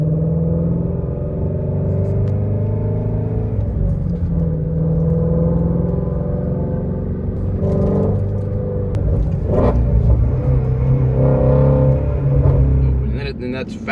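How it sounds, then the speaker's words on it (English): Heard from inside the cabin, a Ford Shelby GT350R engine with its factory X-pipe exhaust gives a deep, steady drone that builds in rumble as the car accelerates. "So I love that I can hear every little bit of acceleration that I do in this car."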